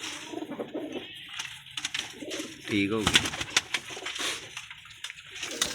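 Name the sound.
pigeons cooing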